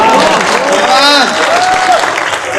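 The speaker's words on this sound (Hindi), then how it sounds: "और अब आपकी तालियां उठेंगी" Audience applause at a Hindi satire poetry recital, a dense, loud wash of clapping from a large crowd, overlapped by a voice speaking through it.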